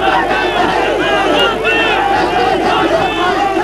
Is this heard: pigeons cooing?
no